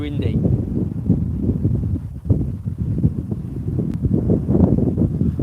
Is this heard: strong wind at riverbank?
yes